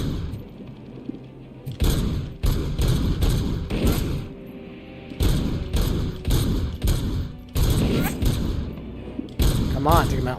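Gunfire in the RoboCop video game comes as repeated heavy bursts of shots and thuds in clusters across the scene, loud and close, with someone talking over parts of it.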